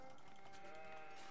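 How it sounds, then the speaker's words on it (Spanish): Sheep in the Age of Empires 4 game give a short, faint bleat, a wavering call heard quietly against a dense, busy background of game sounds. "qué lejos esta oveja maldita!"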